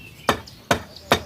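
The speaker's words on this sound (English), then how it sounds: "Now maybe the hammer." Three sharp hammer blows on a stubborn nail, evenly spaced about 0.4 seconds apart, close and loud against a quiet background.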